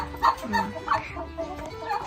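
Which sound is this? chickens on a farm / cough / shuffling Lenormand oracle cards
chickens on a farm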